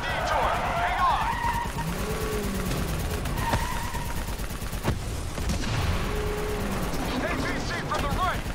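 Gunfire crackles through a Call of Duty: Black Ops 3 battle, scattered shots and bursts mixed with vehicle rumble and loud combat effects, with voices shouting over the action.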